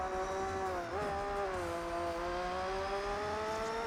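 Steady engine drone of a car in Gran Turismo 4 on PlayStation 2, a sustained tone that dips briefly, then climbs gradually in pitch as the engine revs under continuous load, loud and unbroken throughout.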